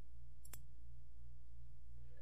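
A single mouse click starts a node in CANopen Magic simulation software, one sharp close click over a low steady hum, with no one talking.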